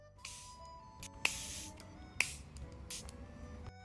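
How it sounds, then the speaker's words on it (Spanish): A makeup setting spray is misted onto a face in several short hissing bursts, fairly quiet and close, with faint clicks of the nozzle between sprays. "ahora voy a poner setting spray"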